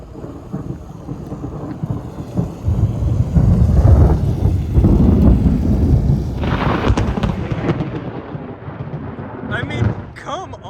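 Rumbling thunder rolls through a lightning storm in Houston, Texas, building into a loud sustained roar midway and then easing off, with faint rain and wind noise underneath.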